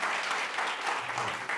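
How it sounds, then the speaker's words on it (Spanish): A church congregation applauding during a Spanish-language sermon, a dense wash of clapping at moderate level that carries on steadily for a moment. "Aplaude al Señor si desea."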